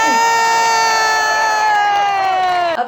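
A crowd at an air show at La Ferté-Alais cheers and shouts loudly and continuously, a dense sustained roar that cuts off abruptly near the end.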